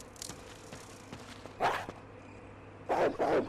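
A dog in a Resident Evil game, heard during the Chris campaign, gives short, rough growling snarls over a low ambient drone. One burst comes near the middle, then two come back to back near the end.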